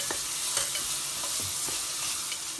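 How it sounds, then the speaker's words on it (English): Onions sautéing with whole cinnamon, cardamom and cloves for chicken biryani, a steady close sizzle and frying hiss with occasional stirring scrapes, no talk. "Saute the onion until it turns light brown."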